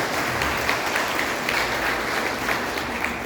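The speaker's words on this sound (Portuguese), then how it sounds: "Palmas para Jesus, vem embora." A congregation at a church service gives steady, dense applause, a continuous wash of clapping at an even level with no voices rising above it.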